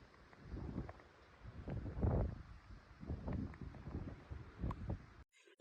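Gusts of coastal wind on a Normandy beach buffet the microphone in irregular bursts, rising and falling in low rumbling puffs with quiet gaps between them.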